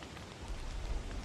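Rain in the video game Don't Starve pours as a dense, steady hiss with a low rumbling undertone, loud and unbroken throughout, with no voices over it.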